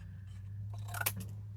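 Scissors snip through a paper tag corner for a junk journal, a quiet close crisp cut arriving near the end of a short stretch of near silence.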